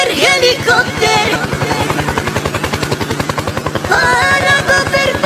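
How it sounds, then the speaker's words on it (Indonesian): Helicopter flying overhead, a loud rapid rotor chop pulsing steadily throughout under dense music-like tonal layers, with voices faintly present. "Helikopter, helikopter."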